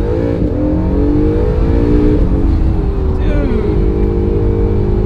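Launch-mode start in a C8 Corvette or Acura NSX, heard from inside the cabin as a loud engine roar that rises steadily in pitch, with a man exclaiming over it.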